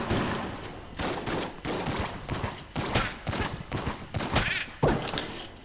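Rapid bursts of gunfire from a player weapon in the bullet-hell game Enter the Gungeon, loud and close, coming in repeated clusters of shots with brief gaps between them, no talking over it.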